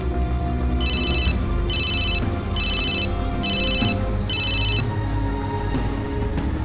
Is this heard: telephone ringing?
yes